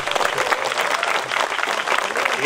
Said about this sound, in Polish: prosimy jeszcze o brawa.